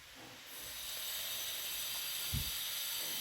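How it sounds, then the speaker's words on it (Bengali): Onions and green chillies frying in hot oil while a hilsa fish curry is cooked, a steady broad hiss swelling after the first half second and holding level, with a brief low knock near the end. "তেল গরম হয়ে গেলে পেঁয়াজ, কাঁচামরিচ ভেজে নিব।"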